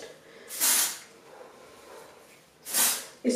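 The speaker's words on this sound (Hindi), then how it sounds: "Spray in my roots." L'Oreal root-lifting hair spray is sprayed onto hair roots in three close, loud aerosol hisses: two longer bursts and a short final puff, with quiet between them.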